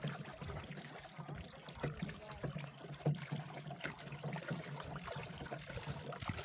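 Water runs from a broken pipe into an open drain, a faint, continuous trickle and splash under low background noise, with indistinct voices nearby.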